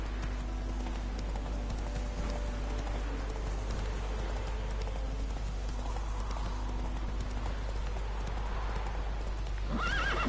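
Horse hooves clip-clop at a steady gallop in The Witcher 3 video game, with occasional neighs and whinnies over a constant game ambience, loud and close throughout.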